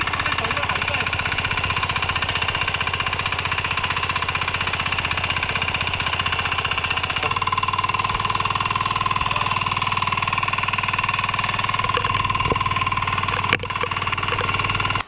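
A tractor engine runs steadily at a constant idle-like drone during rice planting in a flooded Konkan paddy field, loud and continuous throughout, with faint voices in the background.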